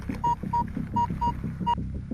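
A metal detector gives a copper signal while searching a vegetable garden, five short pulsing tones over a low throbbing hum, close and steady.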